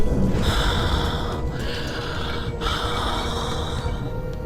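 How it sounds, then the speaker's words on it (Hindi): Three long, harsh breaths in succession, raspy and close, over a low background rumble. "तभी उसे भयानक सांसों की आवाज आने लगी"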